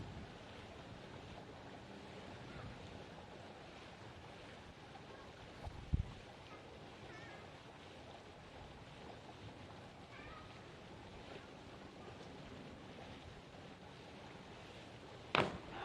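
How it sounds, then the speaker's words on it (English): Strong gusting wind buffets an outdoor high diving platform at a junior diving championship, a constant low, rumbling roar with surf-like washes, plus a couple of sharp knocks. "It's very windy right now."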